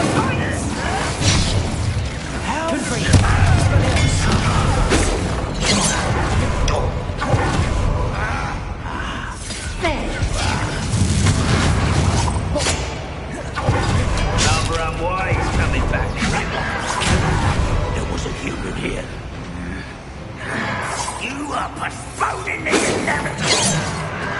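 Incendiary fire spells blast repeatedly during a fight in Hogwarts Legacy, loud whooshing bursts and crashes layered over battle noise and voices throughout.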